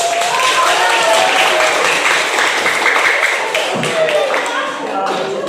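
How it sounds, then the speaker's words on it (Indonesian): Classroom audience clapping during a lively lesson, a steady patter of hands from a group that continues for several seconds and eases slightly near the end, with some voices mixed in. "Oke, tepuk tangan."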